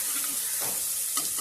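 Chopped onions sizzle and fry in a pan for a Malvani chicken dish, a steady close hiss with brief bursts of louder crackle as the pieces are stirred.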